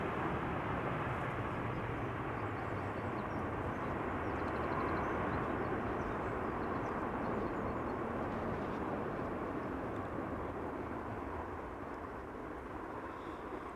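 Airliner noise at Amsterdam Schiphol Airport, a steady, loud broadband roar that holds throughout and eases slightly near the end, with no talk over it.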